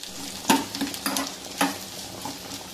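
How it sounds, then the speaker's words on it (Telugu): Chopped onion and ginger fry in oil in a pan, a steady close sizzle broken by a few louder scrapes and stirs of a spoon, with no one talking. "ఉల్లిపాయ ఇంకా అల్లము రెండు కూడా బాగా మనకి బ్రౌన్గా ఫ్రై అవ్వాలి"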